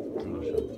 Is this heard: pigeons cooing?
yes